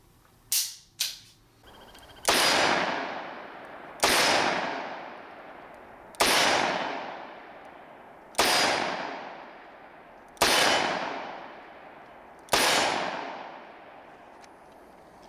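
A Smith & Wesson Model 19 Carry Comp revolver fires six .357 Magnum rounds at a range, loud sharp reports spaced about two seconds apart, each with a decaying ring, after a couple of quick clicks.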